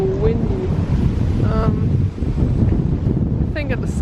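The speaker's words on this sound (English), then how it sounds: "ooh, windy" Strong wind blowing outdoors near a botanical garden in Stockholm, a loud continuous low rumble buffeting the microphone, with brief faint voices or tones drifting through.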